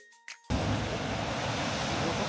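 Ocean waves surge through the Kiama Blowhole, a sudden loud roaring rush of water and spray that starts abruptly after a brief quiet moment and holds steady, with wind on the microphone.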